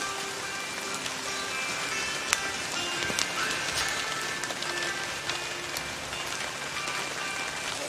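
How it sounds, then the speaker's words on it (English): Steady rain falls across the whole stretch, a dense even hiss of drops with a few sharper individual splats standing out, close and continuous with no voices. "I got a rain coming down right now."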